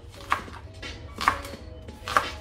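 A knife chops onions on a board in three distinct, evenly spaced thuds, with faint scraping between the cuts over a low background hum; close and clear, with nobody talking.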